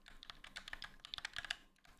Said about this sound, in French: Donc la sensation de frappe est très intéressante.